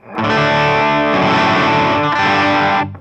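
Heavily distorted electric guitar plays a chugging intro riff, loud and continuous for about three seconds, with dense sustained chords and no voices.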